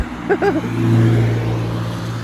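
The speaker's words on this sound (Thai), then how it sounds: "เอ้ากระบะก็เร่งครับ" A pickup truck accelerates on a mountain road, its engine building into a steady, close hum that swells and then eases, with a brief voice near the start.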